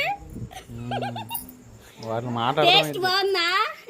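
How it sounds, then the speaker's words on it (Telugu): A dog whimpers and yelps in high, whiny bursts close by, mixed with a person's voice. "డాగులు కుక్కలు"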